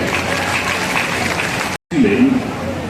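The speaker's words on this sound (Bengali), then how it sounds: "একবার সবাই মিলে হাততালি" An audience claps for a state minister at a public event, dense sustained applause filling the space, briefly cut off, then resuming with a voice speaking over it.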